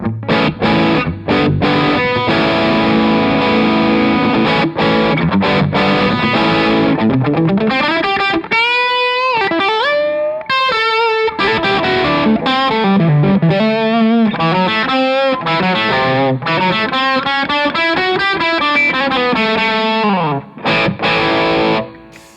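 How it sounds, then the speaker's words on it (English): An overdriven electric guitar through Revv Chat Breaker and Tilt Boost pedals plays distorted chords, then bending, sliding lead lines, loud and continuous without any voice. "mainly you're getting more drive, more gain, more distortion"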